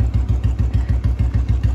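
A motorcycle engine idles close and loud after a cold start, a regular low throbbing pulse of even firing beats with no voices.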